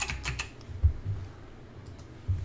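Computer keystrokes tap quietly while a course name is renamed, a few soft clicks scattered across the moment in a quiet room.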